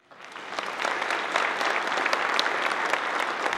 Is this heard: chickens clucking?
no